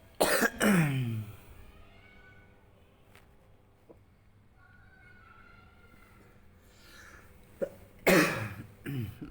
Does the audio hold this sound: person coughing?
yes